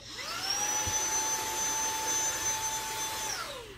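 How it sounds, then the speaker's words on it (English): A Kalorik cordless handheld vacuum cleaner runs in a steady, whiny motor drone that spins up, holds a constant high tone for about three seconds, then winds down, close and alone. "this is nice for using it as a handheld vacuum because it's cordless"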